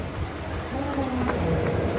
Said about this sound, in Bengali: তমলুক স্টেশন ছেড়ে দিল